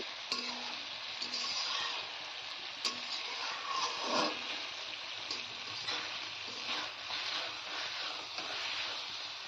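Kochur loti being gently stirred together with chapila fish in an oily pan, a continuous close sizzle with soft scraping and a few light ticks.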